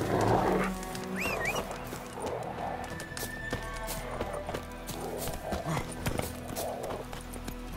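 Roach the horse gallops in The Witcher 3, hooves clip-clopping steadily at a moderate distance beneath a dense game soundtrack and ambient noise, with a brief whinny-like call near the start.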